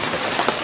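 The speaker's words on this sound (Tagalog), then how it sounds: "Binalikan natin doon kasi grabing ulan no." Heavy rain pouring outdoors at night, a steady dense hiss of drops close by and fairly loud, with no voices.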